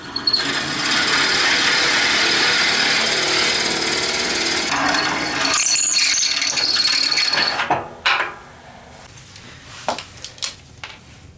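A power drill bores a hole through a deer antler pen blank, a loud steady high-pitched whirring cut that runs for several seconds, then breaks into scraping and stops, leaving a few knocks and handling sounds close by.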